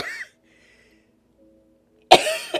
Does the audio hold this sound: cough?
yes